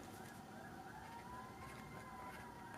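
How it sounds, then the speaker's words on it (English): A faint police siren wails steadily in the distance beneath a low rumble of road traffic, its pitch slowly rising and falling. "I wonder if y'all are hearing that background, the police sirens."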